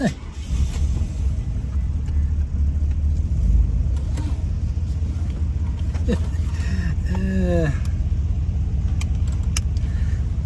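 A Buick crew cab's engine runs at a steady low rumble throughout, with a few short metallic jingles and a rising whine near the end, close and fairly loud.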